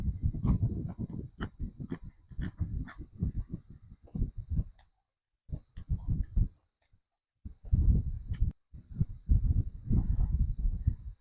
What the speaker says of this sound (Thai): เสียงนกร้องเสียงจิ้งหรีด